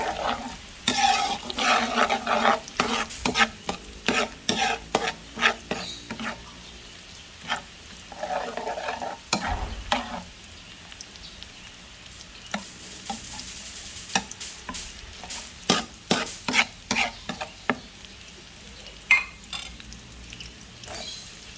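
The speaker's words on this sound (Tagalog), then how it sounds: "Gisa tayo ng bawang, sibuyas, luya." Garlic, onion and ginger sauté for Ilocano-style bopis, with repeated scraping strokes of a utensil against the pan over a steady sizzle and a few soft knocks, close and fairly loud throughout.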